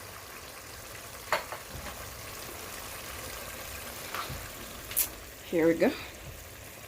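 Githeri, a mix of maize and beans, frying in a pan with a soft continuous sizzle, broken by a few spoon knocks and stirring clatters, while someone speaks briefly.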